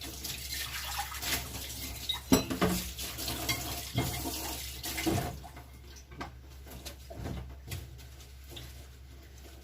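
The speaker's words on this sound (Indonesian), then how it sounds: "sambil cuci piring." Dishes being washed at a kitchen sink, with running tap water splashing steadily and occasional clinks and knocks of crockery close by.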